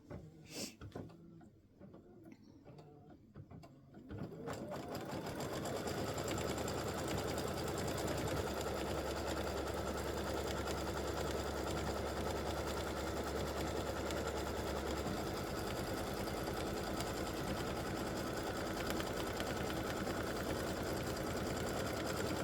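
An embroidery machine stitches a Christmas stocking applique, starting up after a few quiet seconds and then running in a steady, rapid, loud mechanical whir that lasts to the end, with no talking.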